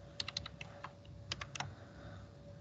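Someone types on a computer keyboard with quick clusters of light key clicks in two short bursts, separated by brief pauses, against a quiet room hum.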